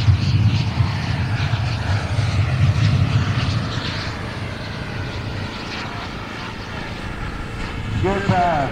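A jet aircraft making a low gear-down pass at an air show in Kentucky, a loud sustained engine roar that swells and then fades, with an announcer talking over it.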